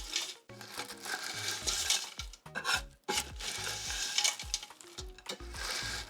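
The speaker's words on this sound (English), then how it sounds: "I'm just kind of turning it back and forth, using my spoon on the side" A spoon stirs and scrapes a crunchy candy mixture back and forth in a pot, giving a steady gritty rasping with small clinks and rattles, up close and fairly quiet, with brief pauses between strokes.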